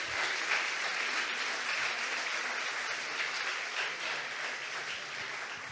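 Audience applause for the master of Basque cuisine from restaurant Arzak, a steady dense roar of many hands clapping, loud and sustained throughout with no break.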